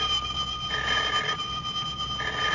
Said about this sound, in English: Well, Swan, a feller can't sit down for 5 minutes without that dead-blamed telephone ringing.